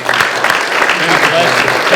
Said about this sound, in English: Let's give Don Miller a round of applause.